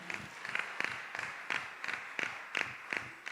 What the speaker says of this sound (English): So, a round of applause for myself and Ariel again.